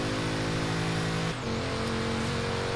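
Car engine from Forza Horizon 3 racing game, a steady loud drone with a brief dip in revs midway, no talk.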